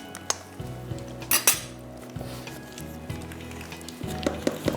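Food frying over high flame in oil in a home kitchen for chicken handi, with a steady sizzle under repeated clinks and scrapes of a utensil against the pan; no talk.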